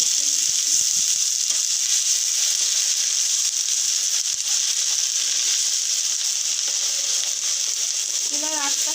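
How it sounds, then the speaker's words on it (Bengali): Ginger and garlic paste fries in a pan with a steady, continuous hiss that stays close and even throughout, with a faint scrape or two near the end. "আর দিয়ে দেবো আদা আর রসুন পেস্ট। এগুলো একটু ভেজে নিচ্ছি।"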